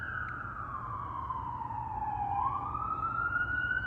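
A wailing siren sweeps slowly down and back up in pitch over a low rumble of city street traffic in an upscale neighborhood, heard from some distance and drawing closer.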